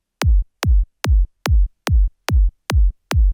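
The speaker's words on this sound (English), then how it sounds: "the kick on its own just sounds like this" Eight clean, punchy kick drum hits land at a steady, even tempo, each a short deep thump with a quick downward pitch drop and nothing else around it.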